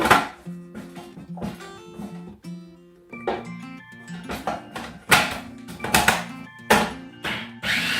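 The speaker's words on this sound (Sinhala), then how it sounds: "කපා ගන්න ලේසි විදිහට කපනවා." A knife chops green leaves on a board for a Sri Lankan mallung salad. Loud, close, irregular bursts of crisp chops cluster in quick runs with short pauses between them.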